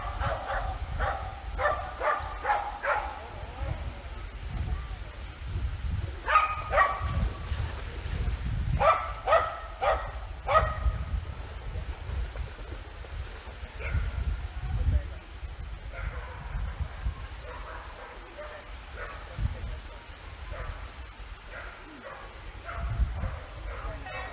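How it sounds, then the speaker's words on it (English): A dog barks in scattered bursts of several yaps outdoors in a woodland nature reserve, the barking starting fairly close and then growing fainter and more distant, with quieter stretches and low background rumble between bursts. "the sound of a dog barking and getting slightly further away"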